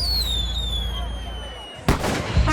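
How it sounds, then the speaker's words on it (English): A firework bursts with a loud sharp bang near the end, then a second crack, at a huge crowded evening camp party by an off-road rally, over steady crowd noise and a high whistling tone. "A firework goes off"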